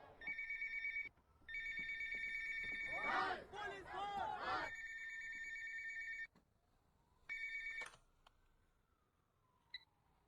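An electronic phone ring repeats in steady, loud bursts with brief gaps, while a crowd of voices briefly shouts over it partway through.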